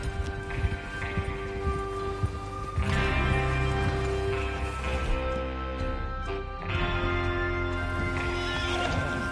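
Horses whinny loudly in two bursts over a steady clatter of hooves and background noise in Red Dead Redemption 2, close and prominent.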